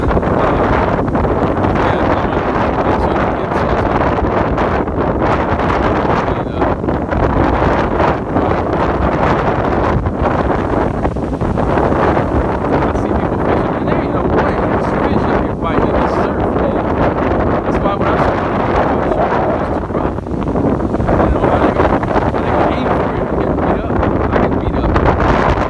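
Strong wind buffets the microphone on a pier at Kure Beach at night, a loud, steady roar with rough gusting texture that never lets up.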